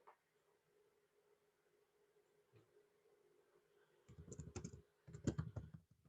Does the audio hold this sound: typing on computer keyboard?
yes